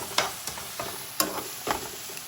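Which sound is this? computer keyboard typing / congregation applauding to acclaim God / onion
onion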